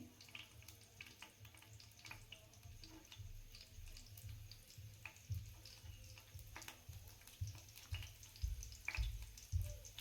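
Chopped garlic frying in hot oil in a pan for fried rice, a steady soft crackling hiss with small pops, close and fairly quiet, with no talking.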